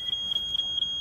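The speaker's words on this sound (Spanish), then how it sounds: "Nos dicen que el detector de humo está" A smoke detector sounds during a test: a shrill, high electronic tone that pulses in quick repeated beeps, loud and close, with no voices.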